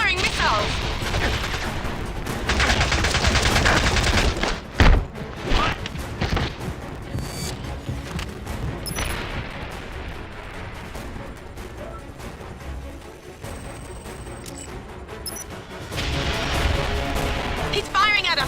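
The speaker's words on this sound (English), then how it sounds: "He's firing at us! Pomrov's firing at us!" Heavy gunfire and missile blasts aimed at the player in James Bond Nightfire, with bursts of automatic fire and loud booms over a constant engine roar, and game dialogue heard across it.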